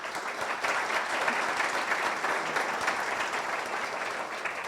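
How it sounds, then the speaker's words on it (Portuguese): A large audience gives a dense, sustained round of applause at a lecture on the secular state in Brazil. The clapping stays steady and even from start to finish. "uma salva de palmas"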